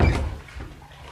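Someone rattles and tries a locked door: a few muffled thumps and knocks cluster at the start, then trail off into quieter handling noise, heard fairly close.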